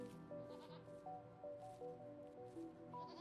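Goats bleat repeatedly in the RimWorld tribal desert colony game, several overlapping cries over a steady game backdrop with music, fairly close and distinct, no talk.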